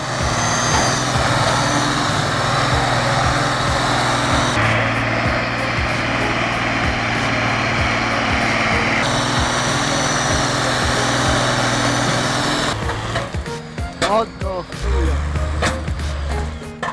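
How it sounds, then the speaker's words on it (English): Ursa 1614 log truck with a 6-cylinder Zetor turbo diesel engine, hauling heavy logs through mud, roaring loudly and steadily with shifting pitch, then breaking into rougher clattering bursts near the end, with a narrating voice over it. "The engine roars again."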